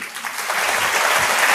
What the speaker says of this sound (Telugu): చప్పట్లు జరిచి